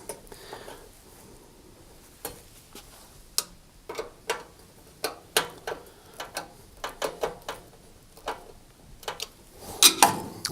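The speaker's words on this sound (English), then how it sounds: "using pliers and the screwdriver, make sure the nut and screw are nice and tight" Pliers and a screwdriver tighten a nut and screw on a Rangemaster cooker's hob ring regulator, giving sharp, irregular close metallic clicks and taps spread through otherwise quiet surroundings.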